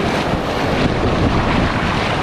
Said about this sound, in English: the waves are pounding me